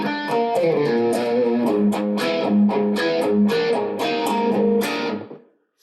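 A heavily distorted electric guitar plays chords and notes with steady strums through an MXR Micro Amp, loud and close, then rings out and stops.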